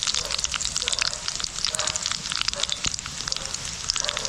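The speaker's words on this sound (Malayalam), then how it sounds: "ഒരു 3-4 വറ്റൽമുളക് ഒന്ന് ചെറുതായിട്ട് മുറിച്ച് അതിലേക്കൊന്ന് ഇട്ട് കൊടുക്കാം." Small cut dried red chillies crackle in hot oil for a Kerala-style fish curry, a steady dense sizzle with fine popping spatters throughout, close and moderately loud with no talk.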